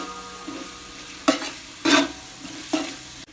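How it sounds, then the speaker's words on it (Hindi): Masala stirred in a frying pan while preparing chicken biryani: a steady low sizzle with three distinct scraping stir strokes, close and fairly quiet, no talking. "इसको अच्छे तरीके से जो है हम भून लेंगे इसको"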